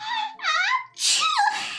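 A character sneezes in the Roblox game Livetopia, a quick wheezy build-up followed by a loud burst, heard up close without talk.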